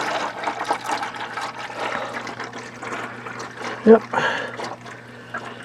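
Engine oil drains from a Caterpillar C7 diesel in a 2006 Freightliner into a bucket as a steady close pouring, trickling stream, with a brief louder splash partway through and a short spoken word.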